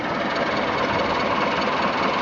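A heavy tracked tractor engine runs steadily with a dense, rough rumble, loud and constant throughout, with no voices.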